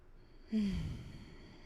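A single deep inhaled breath taken slowly at close range, a soft rushing sigh lasting about a second that fades gently into quiet.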